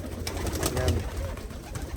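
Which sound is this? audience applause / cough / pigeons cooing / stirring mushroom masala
pigeons cooing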